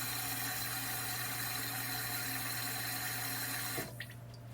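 Running tap water steadily fills a cooking pot, a constant rushing hiss with a low hum that stops abruptly near the end, leaving a faint clunk.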